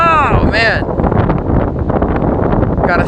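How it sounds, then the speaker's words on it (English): Strong gusts of wind on a beach at Saint Simons Island buffet the microphone with loud, continuous roaring rumble, while a person's voice is briefly heard at the start and end. "in just a moment, another gust will come through"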